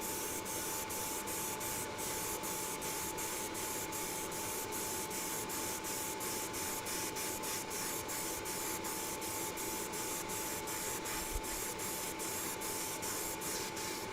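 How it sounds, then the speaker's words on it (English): An airbrush sprays a final coat of Chrysler Bright Blue paint in a steady, close hiss that runs unbroken throughout, with faint rhythmic ticking beneath it. "so we're going to give this a final coat now"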